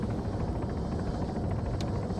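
Helicopter in the ArmA 3 military game flying along: a continuous low rotor rumble with fast, dense beating, steady and fairly loud throughout, no voices.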